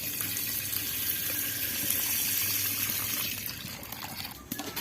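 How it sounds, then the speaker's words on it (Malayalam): Four packets of milk are poured into a heated uruli pot for semiya payasam, making a continuous rushing, gushing pour close by that eases off near the end. "നമുക്ക് ഇനി ഇതിലോട്ട് പാല് ഒഴിക്കാം"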